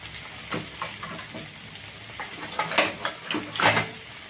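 Okra frying in a pan for a spicy okra dish, a soft steady sizzle broken by a few louder crackling bursts and occasional stirring scrapes, with no talking.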